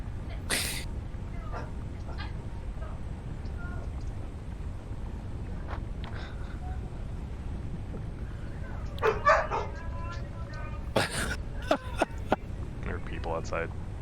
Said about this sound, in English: Sorry, the dogs got really excited about something outside.